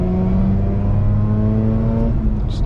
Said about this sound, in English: Just love how that revs out.